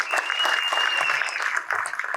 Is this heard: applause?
yes